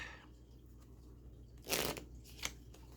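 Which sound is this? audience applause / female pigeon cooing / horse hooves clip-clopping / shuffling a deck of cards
shuffling a deck of cards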